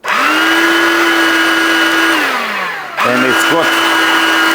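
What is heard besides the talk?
Ryobi 18V ONE+ hand vacuum with motorized head running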